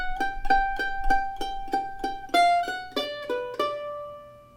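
A mandolin plays a B-part phrase from a bluegrass tune, holding on a G rather than sliding up, with clear, evenly spaced picked notes, close and solo.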